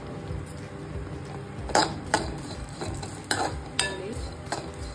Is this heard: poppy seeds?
yes